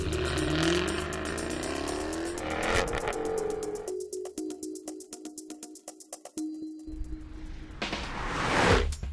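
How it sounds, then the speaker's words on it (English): A Jaguar F-Type V8 S with a 5-litre supercharged V8 revs hard, climbing through sweeping rising pitches with clattering gear changes and brief drops. It ends in a loud, roaring surge. "The 5-litre supercharged V8 feels even stronger than the figures suggest."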